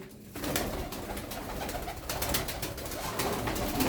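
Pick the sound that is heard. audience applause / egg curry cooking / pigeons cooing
pigeons cooing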